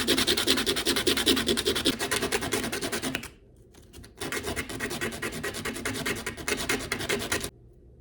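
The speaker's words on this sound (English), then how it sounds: "I need to sand them a little bit because they're extremely uneven" Uneven wooden dowel rod pieces are sanded by hand, a close, fast rhythmic rasping of strokes that runs for several seconds, pauses briefly, then resumes before stopping abruptly.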